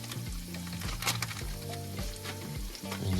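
Sun-dried tomatoes sizzle and crackle in a hot pan in a truck camper kitchen during Greek pasta prep, a steady close frying hiss with stirring scrapes and clatters throughout.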